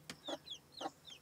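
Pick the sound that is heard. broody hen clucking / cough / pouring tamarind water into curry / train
broody hen clucking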